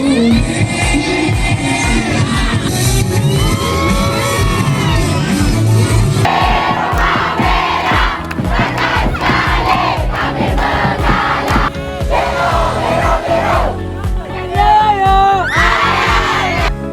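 Students at a school sports day cheering competition chanting and yelling in unison, a loud sustained crowd roar with rhythmic shouts and whoops that swells and shifts over many seconds, filling the whole clip.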